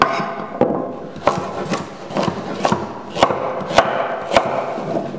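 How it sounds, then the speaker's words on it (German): A knife chops carrots into large pieces on a wooden board, about ten sharp thuds in an uneven rhythm with scraping between them, close up. "Und deswegen einfach in größere Stücke schneiden."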